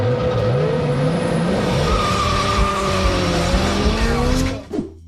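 A 1994 Toyota Supra drives hard: the engine rises and falls loudly while the tires squeal, then the sound drops away abruptly near the end.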